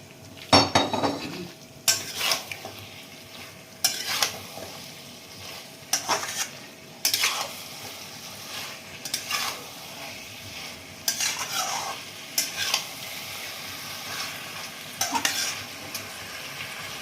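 Fried vegetables, spiced water and masala being stirred into a vegetarian navratan curry in a pan: close scraping stirs recur roughly every two seconds over a steady background sizzle, with no talking.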